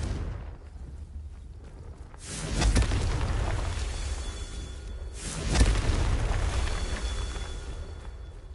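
Two heavy blasting-spell explosions from Confringo in Hogwarts Legacy on PS5, each a deep boom with a rushing tail, spaced about three seconds apart over a steady game background.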